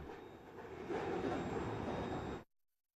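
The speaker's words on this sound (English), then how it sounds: "This is a Union Pacific freight train traveling along the south bank of the Columbia River" A Union Pacific freight train with yellow locomotives rolls along the south bank of the Columbia River, a steady broadband rumble that swells louder about a second in, then cuts off abruptly.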